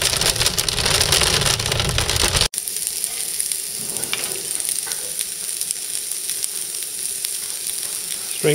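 Sausages fry beside string beans and leeks at a farmers market stall, giving a loud, steady sizzle up close that softens after a sharp cut into a quieter, crackling fry with scattered clinks.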